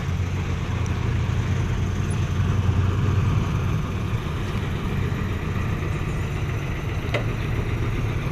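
Idling car engines sit in a traffic jam on a Thai road, a continuous low rumble with a steady drone and no talking.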